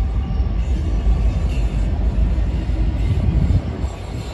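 A train rolls past near a railway crossing in Regina, heard outdoors as a loud, steady low rumble that holds throughout without talking.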